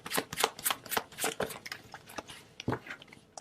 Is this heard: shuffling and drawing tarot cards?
yes